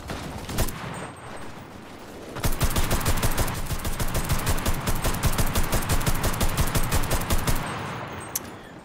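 Sustained automatic gunfire in the video game Enlisted, with a couple of isolated shots followed by a long, loud, rapid burst of rhythmic fire lasting about six seconds before stopping.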